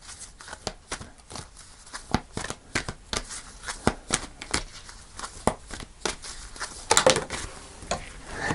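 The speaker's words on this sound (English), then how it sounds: "Final card. Let's pull you a final card." Tarot cards are shuffled by hand in quick repeated riffles and taps, a crisp irregular pattering of card noise close by, ending in a slightly louder flurry.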